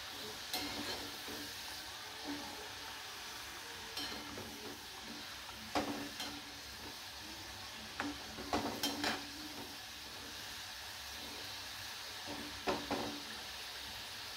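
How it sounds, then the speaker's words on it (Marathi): Wheat flour dough for churma laddu fries on a slow to medium flame with a steady soft sizzle, broken by occasional clinks and scrapes of a utensil stirring in the pan. "मीडियम गॅसवरच ते घ्यायचे फ्राय करून, म्हणजे पूर्ण आतपर्यंत"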